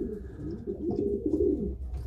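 Low, soft pigeon cooing, close and continuous with a gentle rolling throb, alone without any talk.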